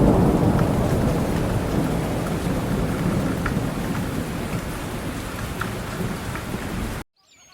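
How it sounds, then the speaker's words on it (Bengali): Heavy rain pours steadily with deep rumbling thunder rolling underneath, loud and continuous until it cuts off abruptly near the end. "হঠাৎ কালবৈশাখী ঝড় উঠে"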